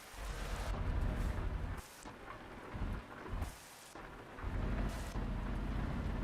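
Thunderstorm in the TruckersMP truck-driving game, with steady heavy rain drumming and loud rolling thunder that rises and falls in several surges, no talk.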